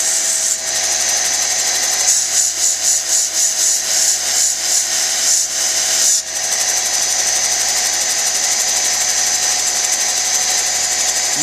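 A lapidary wheel polishes the back of a chrysocolla cabochon at 280 grit, producing a loud continuous whirring grind with rhythmic pulsing as the stone is worked against the wheel.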